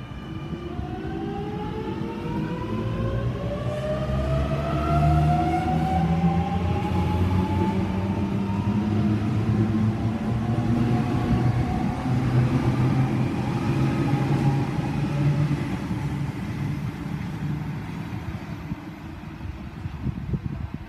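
A train at Padstow station, departing and rolling through with a steady, loud rumble and rising and falling whines from the traction motors, sustained throughout with a faint high squeal over it.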